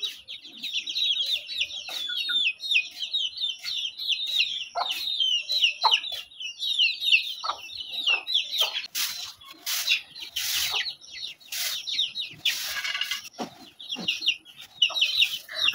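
Chickens cluck in a courtyard, a dense run of close, busy calls and chirps that continues throughout, with some scattered knocks and scuffs in the background.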